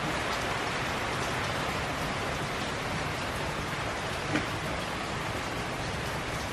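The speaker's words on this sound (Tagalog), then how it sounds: "Nabasa ako, lakas ng ulan." Heavy rain falls steadily at a farm, a dense, even hiss that stays loud and unbroken throughout with no voices.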